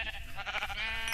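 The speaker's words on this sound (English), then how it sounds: "here, I found a sheep over here." A sheep in a survival video game bleats in one short, wavering call, up close and clear, with no talk over it.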